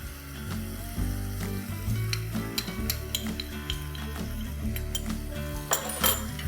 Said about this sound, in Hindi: इसे अच्छे से चला लेंगे।